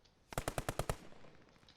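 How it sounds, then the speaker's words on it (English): A rapid burst of about seven machine-gun shots in the World War II shooter game Post Scriptum, evenly spaced and punchy, fairly close, then a short fading tail with no talking. "I'll shoot the roof for you."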